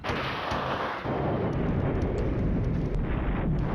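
Mortar artillery fire in the Flashpoint Campaigns: Red Storm war game comes as a dense, sustained wall of rumbling blasts and booms, loud and continuous, with no voices over it.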